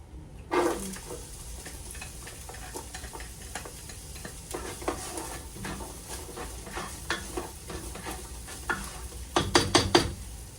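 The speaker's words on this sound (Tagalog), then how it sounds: "ato siyang gisahon ang atong sibuyas" Onions sautéing in a pan sizzle steadily under repeated stirring scrapes and light utensil knocks, with a burst of louder clatter near the end.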